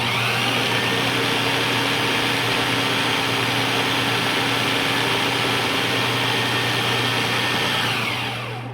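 Food processor blending butter into flour for shortcrust pastry: a loud, steady whirring motor drone with a constant hum, running unbroken for about eight seconds before beginning to wind down.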